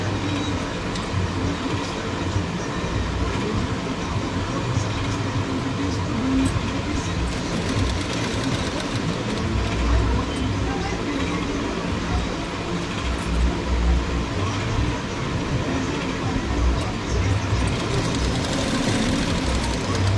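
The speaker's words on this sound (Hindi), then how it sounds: "धीरे धीरे कपड़े को सीधा करते हुए हम सिलाई लगा लेंगे" A sewing machine stitches blouse fabric while sewing a four-tuck blouse, giving a steady, continuous mechanical whirring and rattling that runs unbroken and fairly loud throughout.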